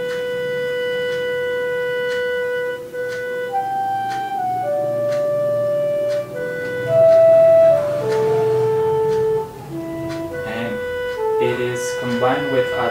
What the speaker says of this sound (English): We just play only the dudak. It will sound like this.